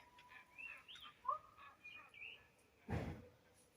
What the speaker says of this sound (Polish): A tam słychać wrony albo kawki.